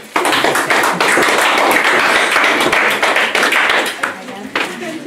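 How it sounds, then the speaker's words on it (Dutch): Applause at a Dutch naturalisation ceremony in a museum, a steady crowd clapping loudly for several seconds before thinning out to a few scattered claps, with voices faintly underneath. "En een applaus voor jou."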